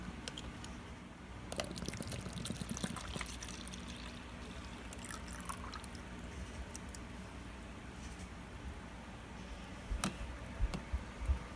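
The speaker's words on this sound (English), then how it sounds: "you're supposed to pour that in there. A whole bottle in the cup." Suprep bowel prep liquid is poured from its bottle into a cup: a steady, fairly quiet trickling pour with a few small drips and splashes near the end, and no talking.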